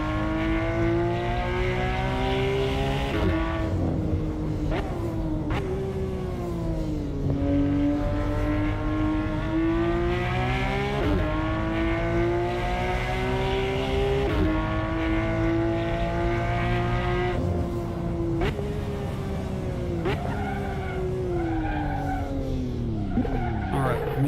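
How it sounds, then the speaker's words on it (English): A race car in the Assetto Corsa racing game roars with a loud, sustained exhaust note that rises and falls through gear changes, mixed with tire squeal from sliding, continuous and close. "Love the sound of the exhaust."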